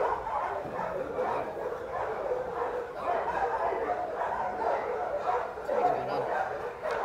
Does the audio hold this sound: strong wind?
no